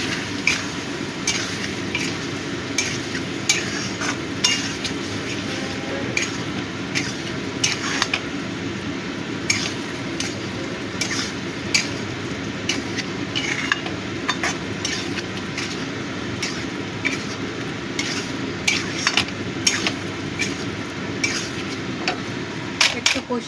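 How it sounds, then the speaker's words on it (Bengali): Tangra fish curry stir-fried in a pan, a steady low sizzle under frequent scraping clicks of a spatula against the metal, close and continuous. "ভালো করে কষিয়ে নেব"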